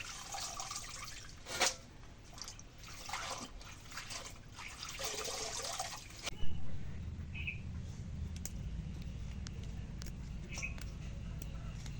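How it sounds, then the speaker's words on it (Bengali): Red amaranth greens are washed in water, with splashing and sloshing in the first half, then a quieter steady trickle and a few soft drips. "শাকগুলো এখন শাকগুলো ধুয়ে নেই"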